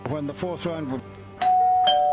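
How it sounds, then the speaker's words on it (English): A doorbell chimes loud and close with a sustained ringing tone, following a voice talking just before it. "The doorbell once again rang just as I switched to a news channel."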